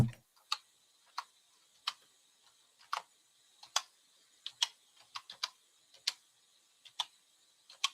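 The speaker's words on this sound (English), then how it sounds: "like you were tapping your nails over there" Fingernails tap on a hard surface beside a computer keyboard, making sharp, dry clicks in an uneven rhythm of about two or three per second. The tapping is close and quiet, with little else around it.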